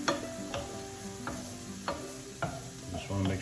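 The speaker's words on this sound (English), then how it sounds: "I'm adding approximately 1 tablespoon of garlic to those onions." About a tablespoon of garlic sizzles with onions in a pan, a steady close frying hiss broken by regular utensil clacks as the mix is stirred.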